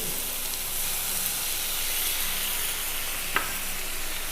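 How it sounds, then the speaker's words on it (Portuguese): Pork cooking in a pan hisses and sizzles loudly after water is added, a dense continuous wash of steam and frying with one faint clink partway through, close by and without talk. "deixa ele cozinhar no vapor um pouco"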